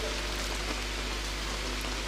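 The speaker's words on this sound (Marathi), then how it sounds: "पावसाची जी धार जोरात कोसळते" Heavy rain pours down steadily during a local cricket match in Virar, a dense, unbroken hiss of drops on surfaces that fills the whole moment with no voices audible.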